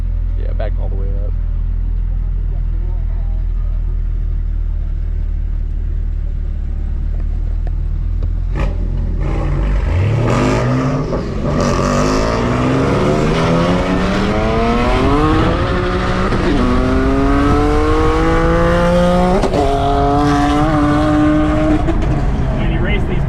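Cars accelerate hard in a roll race, the engine note climbing through several rising gear pulls after a dull rumble. The sound is loud and continuous, with an occasional voice under it.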